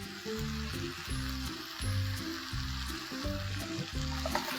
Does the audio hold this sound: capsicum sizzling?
yes